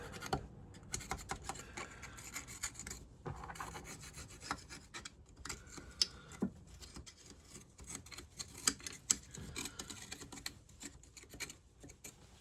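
Salt deposits are rubbed and scraped off an outboard motor gasket, producing faint, rapid, irregular scratchy rasping strokes close by, with no talk.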